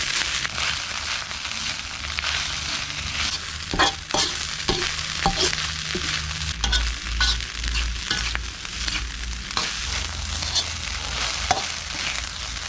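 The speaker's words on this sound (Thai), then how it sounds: "ผัดไปเลยครับ ผมคั่วแห้งไปด้วยหอมไปด้วยนะครับ" Ingredients are dry-roasted in a pan with a spatula, giving a steady crackling sizzle broken by repeated sharp scrapes and taps, close and constant over a low rumble, with no voices.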